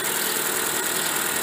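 A car's electric radiator cooling fan motor running right after switching on, a steady close whirring hum with engine-like vibration, no pauses, and no talk.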